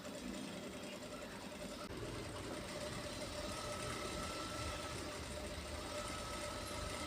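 An industrial sewing machine runs steadily while stitching piping with a dori setting, a continuous dense mechanical whir close up and without pauses or talk.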